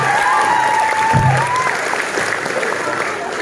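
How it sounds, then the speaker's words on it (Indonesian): An audience at a school extracurricular inauguration talk show claps loudly and steadily for several seconds, with a brief voice rising over the applause. "tepuk tangan lagi teman-teman kita"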